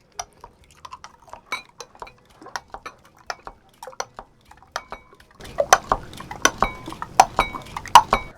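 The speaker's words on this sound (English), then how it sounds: "Just give this a quick stir. All right, just scramble these on up." Eggs being stirred and scrambled in a pan for a breakfast burrito bowl, with a utensil clinking and scraping against the pan in irregular taps, then denser scraping and clatter near the end.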